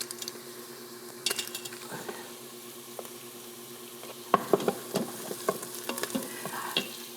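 Taco filling for street tacos fries and sizzles in a pan with a steady hiss, joined by scattered stirring scrapes and clinks that grow busier in the second half.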